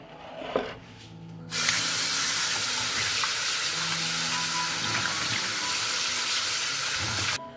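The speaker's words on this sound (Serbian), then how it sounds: "ovako oljušten krompir odnosim sad da ga operem pod mlazom vode" Peeled potatoes rinsed under a running kitchen tap, a steady hiss of water starting abruptly after a brief quiet moment and flowing continuously before cutting off near the end.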